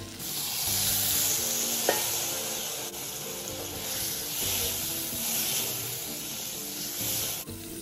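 Pork belly stir-fried in a pan for a home-style dish, a continuous loud sizzle with scraping turns of the spatula and a single sharp knock partway through.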